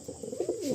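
Mature paired pigeons coo close by, a short run of low, rolling warbles that swell and dip over under a second, with no talk.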